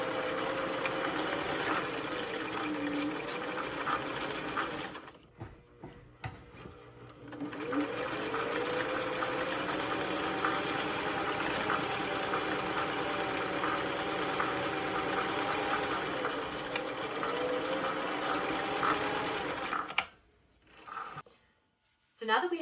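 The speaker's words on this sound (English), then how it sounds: "Lock stitch, straight stitch all the way down, and then lock it again at the end." A sewing machine runs a straight stitch down the bottom edge of a feed bag tote and its liner, humming steadily with two short pauses for lock stitching, the motor whirring up close.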